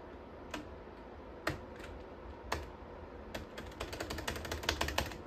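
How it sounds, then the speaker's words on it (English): Keys on a Dell Vostro 270S desktop's computer keyboard are pressed, first in a few sparse separate clicks, then in a quicker burst of tapping toward the end, close by with no talking. "I'm literally pressing things on my keyboard and, like, nothing's happening."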